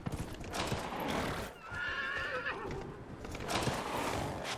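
A horse in the video game Dragon Age Inquisition whinnies loudly in the middle while hooves clop rhythmically throughout, fairly close and with no talk over it.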